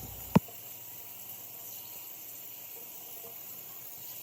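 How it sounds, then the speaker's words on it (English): Water runs steadily from a tap while a shirt is wetted for fabric dyeing, a constant even hiss preceded by a single sharp click near the start. "The first thing you're going to want to do is get your clothing wet."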